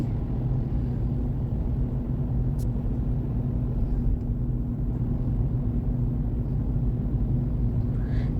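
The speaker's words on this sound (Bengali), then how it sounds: "দীর্ঘ এই টানেলের ভেতর দিয়ে প্রতিদিন হাজার হাজার গাড়ি যাওয়া আসা করে" A steady, dense rumble of car traffic rolling through a long tunnel hangs throughout, an even drone of engines and tires with a constant hum and no distinct passes.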